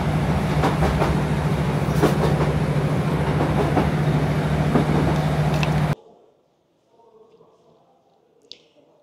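Train at Preston railway station in England: a loud, steady rumble with a low hum and scattered clicks for about six seconds, then an abrupt drop to quiet ambience with one faint click.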